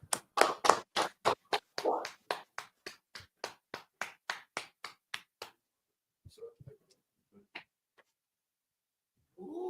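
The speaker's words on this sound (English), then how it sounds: "Clap it up." Claps from a small class group, about twenty sharp, evenly spaced hand claps in a steady rhythm for several seconds. Then a few scattered taps and a brief voice follow in a quiet room.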